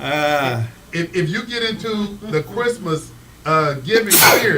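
A single sharp, loud sneeze bursts out near the end, following several seconds of someone talking at close range.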